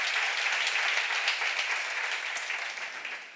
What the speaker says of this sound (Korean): 믿으시면 박수로 하나 둘 셋